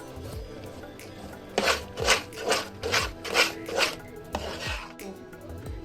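A spoon stirs roasted, ground flaxseed and almonds in a pan, giving about six rhythmic scraping strokes at close range after a quieter start, with no talking.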